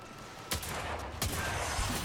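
Hand cannon gunfire in the video game Destiny 2, two sharp loud shots about three-quarters of a second apart over a constant noisy game background, with a fainter impact after.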